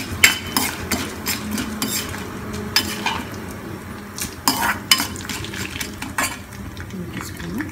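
Cumin and mustard seeds sizzle in hot oil for a ginger chutney tempering, with a light crackle under frequent metal spoon scrapes and clinks against the pan.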